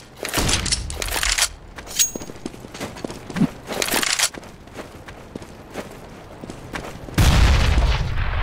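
Counter-Strike match audio with a flashbang grenade going off among repeated close gunfire bursts, quick footsteps and clattering, ending in a loud sustained rumble.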